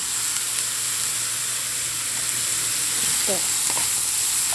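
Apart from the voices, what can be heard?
broccoli, eggplant and cucumber sizzling in pan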